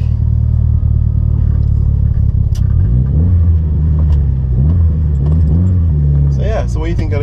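A Mitsubishi Evo 9 MR with a titanium exhaust idles and then revs up loudly from inside the cabin, its deep engine drone rising and falling under people talking.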